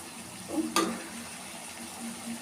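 Potato slices frying in a pan of oil for a simple spiced potato fry, a faint steady sizzle with a brief stirring scrape, fairly quiet and alone.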